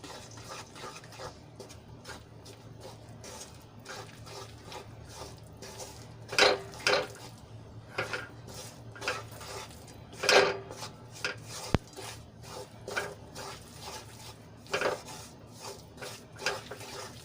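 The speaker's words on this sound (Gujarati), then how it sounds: "તો એમાં આપણે લોટ એડ કરી લઈશું અને સરસ રીતે આપણે ઘીમાં એને મિક્સ કરી લઈશું" Flour being stirred into hot ghee in a kadai: soft scraping and clinking of a spoon against the metal pan, with a few louder knocks spread irregularly across the stretch, no voices.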